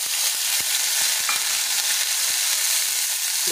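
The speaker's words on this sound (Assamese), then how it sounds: "খিচমিচকেইটা অকণমান ভাজি ল'ম।" Raisins sizzle in a pan of hot oil with a bright, steady hiss and occasional soft stirring taps, heard up close and alone.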